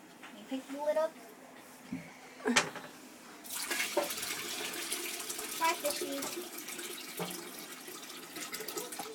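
Water and a pet fish are poured from a container into a toilet bowl, giving soft splashes and a bright burst of pouring water, then trickling. People talk quietly throughout.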